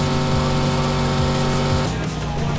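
Engine of a car driving in a video game, a loud, steady drone that holds close and constant, with a shift in tone near the end.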